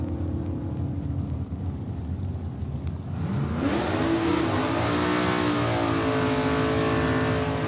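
Drag race cars launch at Saskatchewan International Raceway, building from a loud rumbling idle to a surging, rising engine roar that fills the track.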